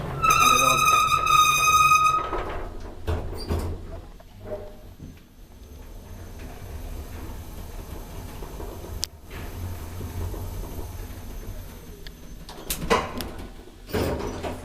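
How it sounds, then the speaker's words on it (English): An old Kone traction elevator's door slides shut in a residential building in Mäntsälä, Finland. A few short electronic tones come first, then a quiet hum, and a soft thud closes the sequence near the end. "Door closes almost immediately."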